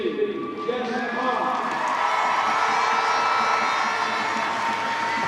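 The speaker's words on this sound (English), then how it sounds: "Applause rings around the Joy Stadium as Jess Park is awarded Player of the Match" A stadium crowd at a women's football match between Manchester City and West Ham United applauds and cheers steadily, a dense roar of clapping and whoops with excited shouts, continuous and fairly loud.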